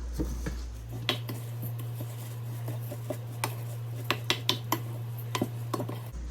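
A spoon mixes shredded beef and rice in a pot on the stove, with scattered metallic clinks and scrapes over a steady low hum, close by and fairly soft.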